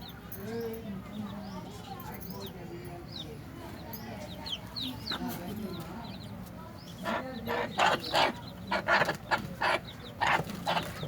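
Hens cluck and chatter close by, with short sharp bursts of noisier clucking and scratching toward the end.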